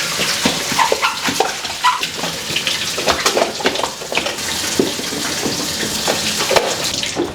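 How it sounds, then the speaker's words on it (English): Hot water running steadily from a tap during cleaning, a continuous close splashing rush with small irregular surges and no talking. "I just use this in a little bit of water, hot water."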